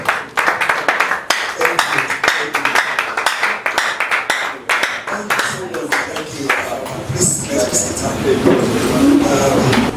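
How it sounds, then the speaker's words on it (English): An audience claps together in a hall, a steady round of applause that runs for the whole stretch, with a voice speaking over it and the clapping swelling denser and louder toward the end. "please stand and give a round of applause"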